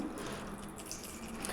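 Water pours steadily into instant appe batter with soda, a continuous wet trickle with soft splashing close by.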